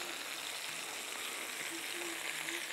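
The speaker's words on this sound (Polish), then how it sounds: "I tu nam się smaży." Onion, bacon and dried mushroom fry in a pan with a roulade, a faint steady sizzle with soft crackling and occasional light scraping.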